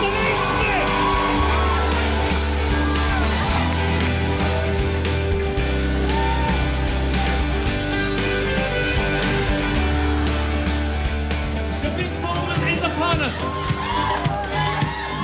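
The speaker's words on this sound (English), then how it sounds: "baying crowd." A rowdy crowd yells and whoops at the crowning of a beauty queen, loud overlapping shouts over a thumping, heavily amplified music bed that keeps going throughout.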